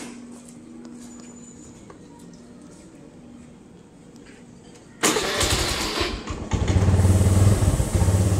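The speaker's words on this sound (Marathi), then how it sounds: "गाड़ी आता स्टार्ट करू आणि कंटिन्यू।" After a quiet stretch with faint background hum, a vehicle engine cranks and catches, then settles into a loud, close idle that continues to the end.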